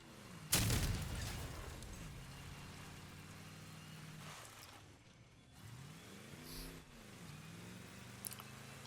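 Cannon shots fired from long range in the vehicle combat game Crossout: a loud sharp blast near the start, then revving engine rumble and smaller distant pops and booms.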